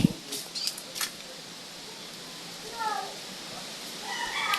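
A cat meows a few times, fairly close, outdoors just after a typhoon with strong wind still blowing, amid faint outdoor background noise and a couple of sharp clicks.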